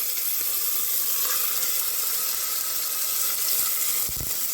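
Chicken thigh pieces sizzle steadily in hot oil, a dense, even hiss that holds throughout with a few small pops near the end, close and alone with no talking.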